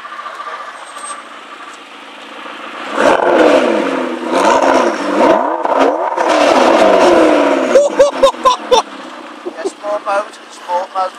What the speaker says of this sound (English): Exhaust.